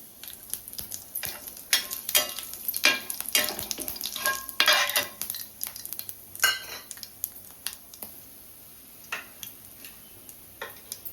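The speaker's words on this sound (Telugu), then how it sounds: "ఇప్పుడు ఆయిల్ హీట్ ఎక్కింది కొంచెం షాజీర కొంచెం జీలకర్ర ఇది చెక్క నాలుగు ఆలు నాలుగు లవంగాలు" Whole spices, including shahi jeera, cumin, cinnamon, cardamom, cloves and bay leaf, crackle and spit in hot oil for a Telugu gongura chicken, with irregular sharp pops and clinks over a low sizzle.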